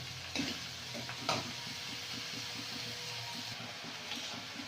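A spice paste of poppy seeds, tomato and coriander leaves fries in a village kitchen pan, giving off a soft, steady sizzle with a few stirring knocks.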